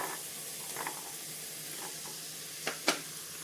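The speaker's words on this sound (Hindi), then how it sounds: "और इसी में 2 चम्मच दही डाल देंगे और इनको चलाते हुए हम भून लेंगे।" Vegetables with two spoons of yogurt stirred and fried in a pot for mixed veg pulao, a quiet steady sizzle with a few scattered spoon scrapes, two sharper ones near the end.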